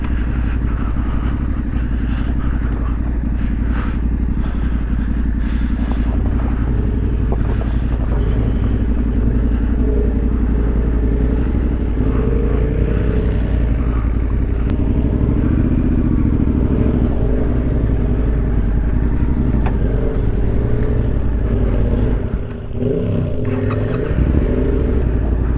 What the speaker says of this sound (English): The bike isn't going to fit over the bridge, so it looks like a water crossing.